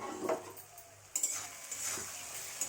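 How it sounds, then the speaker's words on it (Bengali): A pot lid clinks as it lifts off a pan of eggplant cooking in hilsa fish oil, followed by faint scraping and stirring with a soft sizzle, quiet and close. "এবার ঢাকনা তুলে দেখি কত দূর হয়েছে।"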